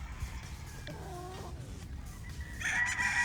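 Golden Boy, a brood stag rooster, gives a few short clucks and calls close by, ending in a louder, strained crowing cry over steady background hum.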